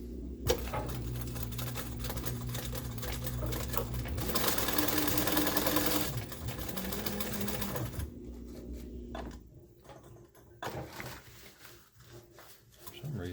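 Industrial sewing machine bar tacking a back band, rapid mechanical chattering stitch bursts, loudest in a dense middle stretch, with stops, clicks and someone talking around it.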